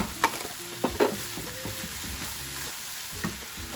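Leftover jasmine rice frying in a pan, with a soft continuous sizzle close by and a few sharp scrapes and clicks of a utensil stirring through it.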